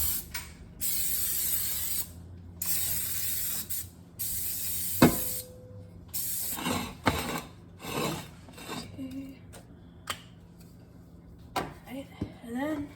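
Cooking spray from an aerosol can hisses into a cake pan in several short bursts of varying length, with clicks and handling noises between them, heard up close in a kitchen.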